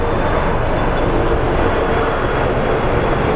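Jet airliners landing and taking off at Sky Harbor airport produce a broad, steady roar of engine noise, continuous and loud with no distinct breaks.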